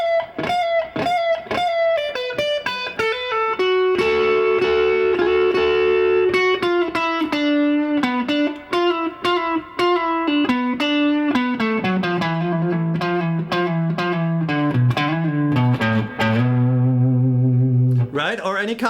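Electric guitar through effects plays slow blues licks, a run of picked single notes and bends that step downward in pitch, ringing with some distortion and echo, steady and close with no talk.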